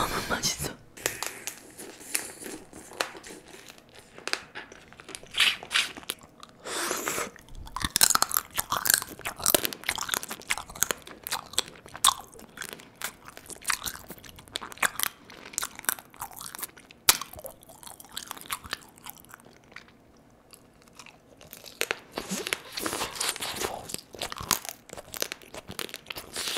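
Close, crisp crunching and wet chewing of soy sauce marinated crab, with irregular bursts of bites and mouth sounds throughout, loud and near, with occasional soft vocal sounds between bites.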